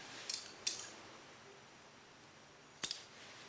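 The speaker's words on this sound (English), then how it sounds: "then I'll cut this yarn" Scissors snip through crochet yarn in a quiet room: two quick close cuts, a pause, then one more sharp snip.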